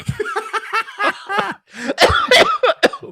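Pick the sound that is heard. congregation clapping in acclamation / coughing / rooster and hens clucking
coughing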